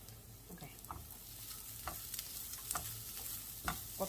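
Grated coconut fries in a pan over low heat with a steady soft sizzle, broken by scattered stirring scrapes and light crackles, close and fairly quiet, with no voices.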